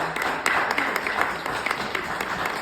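An audience at a panel session of a healing and restoration event in Brampton claps together, a moderate, even patter of many hands with scattered sharper claps and no talking over it.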